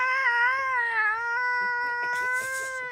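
A voice imitating cats caterwauling, a drawn-out wavering yowl sung alone without a break, loud and close.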